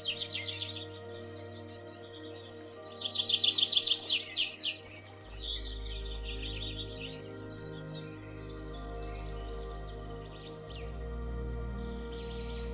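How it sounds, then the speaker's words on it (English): Forest birds around Lake Moraine, where nutcrackers, Canada jays, blackbirds and grouse live among conifers, give bright chirps and tweets in scattered bursts, with one dense flurry in the middle, over a quiet, steady low background. "In the forests surrounding the lake, there are many nutcrackers and Canadian jays, blackbirds, and grouses."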